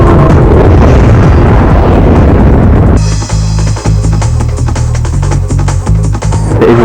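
An explosion effect for an animated film: a loud, dense rumbling blast that shifts into a sustained roaring layer with repeated throbbing booms and bright ringing tones, continuing to the end with no voices.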